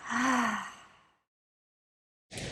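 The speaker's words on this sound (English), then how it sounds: "Taking a nice deep inhale through the nose. Exhale out the mouth." A slow, deep breath drawn in and released during a gentle yoga breathing practice, one long audible breath that fades into silence before another breath begins near the end.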